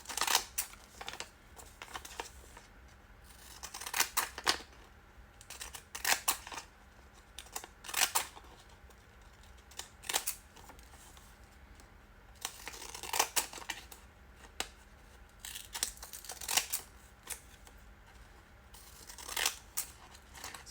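Kids' scissors bought from Amazon cut through paper in quick crisp snips, clustered in irregular bursts with brief pauses between, close and fairly quiet with no talking.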